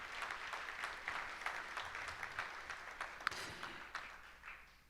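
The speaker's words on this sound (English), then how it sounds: "can you give yourselves a round of applause?" A round of applause from a benefit-event audience, soft and distant-sounding, with steady scattered clapping and a few sharper individual claps, fading toward the end.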